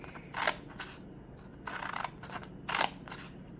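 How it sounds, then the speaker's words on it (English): Scissors cutting several strips of sheet music paper at once to make tassels: four or five crisp, close snips separated by short pauses. "I'm going to cut them all at the same time even"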